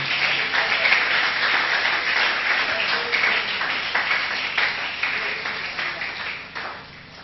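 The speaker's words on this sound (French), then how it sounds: "Est-ce qu'on peut acclamer pour la gloire de Dieu?" Audience applause for the glory of God at a French-language church gathering: steady, dense clapping from a crowd, loud and sustained throughout before thinning slightly at the end.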